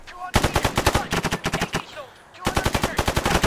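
Automatic gunfire from an Arma 3 firefight, rapid loud bursts of machine-gun fire close by, broken by a short lull before another sustained burst.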